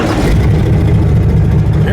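A 1976 truck fitted with a new rear end accelerates up a street on a test drive, its engine a steady, loud mid-range drone throughout with no letup.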